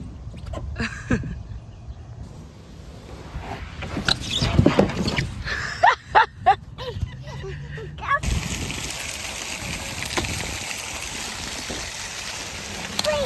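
A young child splashes in water: bursts of sloshing and splattering, with a cluster of sharp, loud splashes near the middle, over a continuous watery wash. An adult talks throughout.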